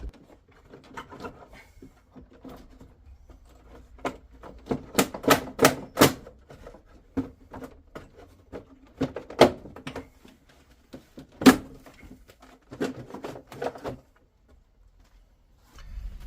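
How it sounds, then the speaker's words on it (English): Plastic trim being snapped, cracked and yanked out of a 4x4 off-road vehicle, heard as a string of sharp irregular cracks and clacks of varying loudness with rustling between them, fairly close and without talk. "if you want an ASMR of a load of plastic being broken, now's your chance, because he got fed up and yanked it"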